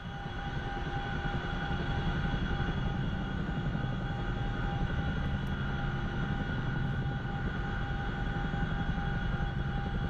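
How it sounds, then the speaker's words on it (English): A helicopter's engine and rotors spool up in the DCS World flight simulator, a loud continuous mechanical drone with steady whining tones that holds constant and close for about ten seconds, with no speech. "You'll hear the RPM go up and the rotors"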